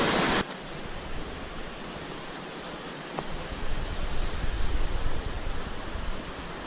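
A waterfall in a lush green forest under a tree canopy gives a steady, dense rushing roar that continues unbroken, with no voices.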